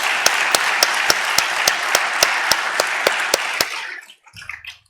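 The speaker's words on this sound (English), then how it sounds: "Let's give Dr. Schief another round of applause" A meeting audience gives a speaker a round of applause, steady dense clapping with a few sharp individual claps standing out, fading out after about four seconds into quiet.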